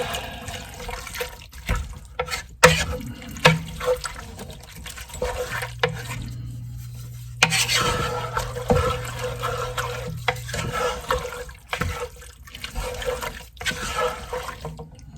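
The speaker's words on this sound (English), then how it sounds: "And that, we give that a good stir." A vegetable soup is stirred in a pot, with wet sloshing and liquid swirling sounds interrupted by intermittent clanks of the spoon against the pot. A steady hum runs underneath in the middle section.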